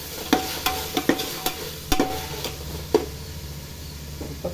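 Chopped tomatoes fry and get stirred in a pan for veg pulao, a low steady sizzle broken by repeated sharp scraping and clinking strokes of a spoon, close and fairly loud.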